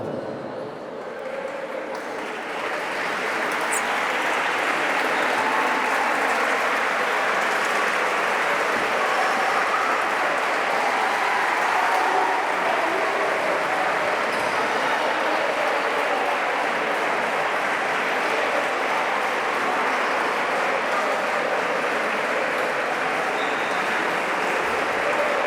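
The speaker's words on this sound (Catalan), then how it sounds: "un fort aplaudiment per al primer equip del Club Handbol Benicarló" Loud, sustained applause from an audience at a handball club's team presentation in Benicarló, starting softer and swelling after a few seconds into steady clapping that fills the room.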